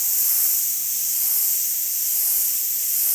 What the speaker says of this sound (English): I want to pull the airbrush back